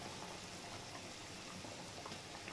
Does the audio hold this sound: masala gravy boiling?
yes